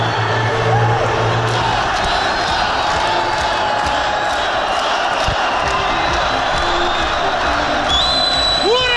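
Football supporters at a championship final in the Kyrgyz league roar in a dense, continuous crowd din with whoops and shouts, loud and sustained throughout, as if heard from within the stands.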